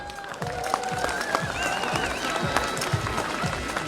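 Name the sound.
audience applause for the Lesce wind orchestra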